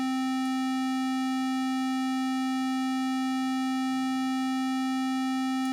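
A steady Arturia Matrix-12-V synthesizer oscillator tone with a clear harmonic series, held for several seconds while being fine-detuned, alone with no talk.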